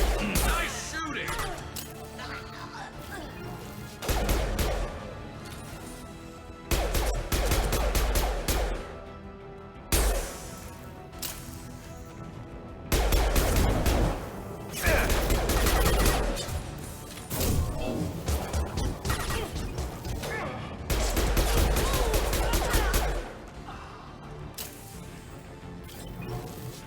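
Gunfire and impact bursts from a Mass Effect 2 firefight, coming in loud repeated clusters separated by short quieter gaps, with crashing hits mixed through the action.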